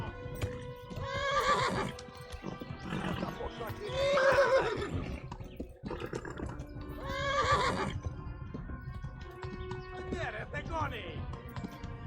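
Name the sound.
horse neighing and galloping in a video game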